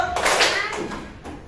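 Sharp hand claps from a classroom group following a teacher's counted instructions, a few distinct bursts spaced through a short stretch over roomy background noise.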